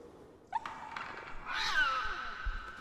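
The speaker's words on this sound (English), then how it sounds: "Oh no, I scared the kitty!" A startled cat in a video game lets out a short meow, then a longer, louder wavering yowl that slides downward, heard close over quiet game ambience.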